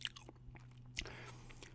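Gum being chewed right up close to the mic, soft wet smacks and small clicks in an uneven rhythm, quiet, with one sharper snap partway through.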